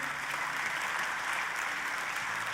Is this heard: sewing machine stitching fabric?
no